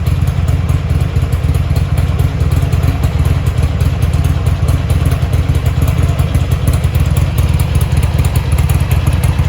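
A Buell XB9R Firebolt motorcycle with a check-engine light runs during a start attempt, its engine roaring as a loud, continuous, close rumble with a rough clattering texture and no voices.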